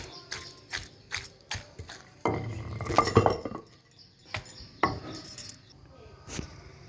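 Tamarind, fried tomato and coriander are pounded into a chutney, producing repeated close knocks and glassy clinks at an irregular pace, with a denser grinding stretch in the middle.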